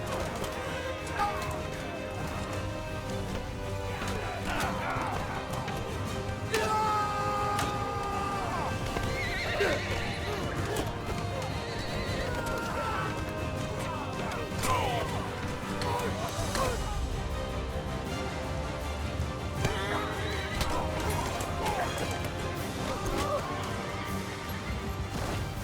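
Cavalry horses in the Bannerlord video game gallop with dense clip-clopping hooves, whinnies and neighs, and clashing battle crashes, a busy continuous battlefield din with voices talking throughout.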